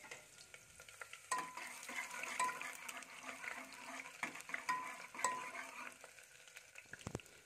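Chopped onion and garlic fry in a pan, giving a soft, steady sizzle with occasional stirring scrapes and clinks. The sound is faint and close, with no speech.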